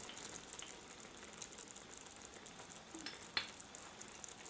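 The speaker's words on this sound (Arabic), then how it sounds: "نصب مغرفتين زيت" Oil poured into a pan for a Tunisian ojja gives a faint, steady hiss and sizzle with a light watery texture and one small tap partway through.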